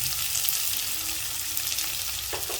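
Onion and tomato sauté in a pan with mustard seeds, giving a steady close sizzle with light stirring scrapes throughout and no voices.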